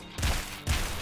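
Two quick bursts of gunfire in the video game Nuclear Throne, loud and close, with heavy low thumps about half a second apart.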